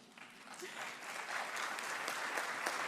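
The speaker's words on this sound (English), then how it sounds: "But first, applause for me and for all these announcements." An audience applauds at a NATO summit session in Ankara, a steady, moderately loud wash of clapping that holds evenly for the whole stretch without pause.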